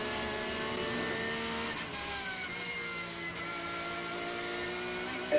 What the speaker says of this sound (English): Kevin Estre on a quick lap at the moment in the 911 Manthey Racing Porsche.